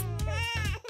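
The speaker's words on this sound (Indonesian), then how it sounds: "Bayi kaya menangis dengan keras." A baby cries loudly in sustained wailing bursts over a low, steady hum, close and insistent.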